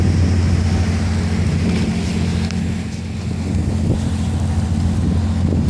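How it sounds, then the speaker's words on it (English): A noisy boat motor drones steadily nearby as the boat passes on the water in Copenhagen, a deep low hum with constant rushing wind and water noise throughout. "I'm gonna flip the camera around as this noisy boat passes"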